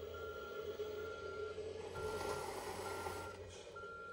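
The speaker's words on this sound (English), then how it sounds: "and you can hear the backup alarm" A faint, evenly spaced electronic backup beep from a reversing Huina Kabolite K3362 RC truck repeats steadily over a low motor whir, quiet and close.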